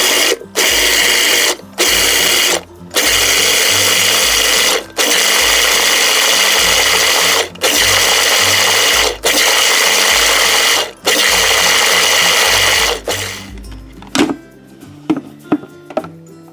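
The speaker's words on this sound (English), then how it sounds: "And then I'm going to be pulsing it until it becomes a nice and smooth texture." A blender pulsing frozen pineapple and mango into sorbet, a loud close motor roar broken by brief stops, then a few short rattling bursts at the end.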